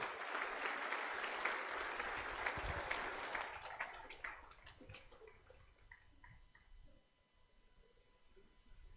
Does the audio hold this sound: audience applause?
yes